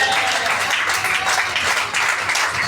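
Congregation at a French-language church service applauding and cheering for the Lord, a dense, steady wash of clapping and voices filling the room without pause.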